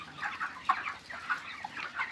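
Many broiler chickens clucking softly at a distance on a poultry farm, a busy chatter of short overlapping calls from a flock, fairly quiet with no talking.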